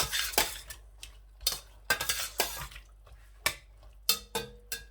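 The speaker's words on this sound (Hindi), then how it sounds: "इस तरह से और अच्छी तरह से एक बार इस तरह हिला दूंगा" Metal spoon scraping and clanking against a cooking pot as kala chana chawal, black chickpeas with rice, is stirred, in several irregular bursts of close clatter with quiet gaps between.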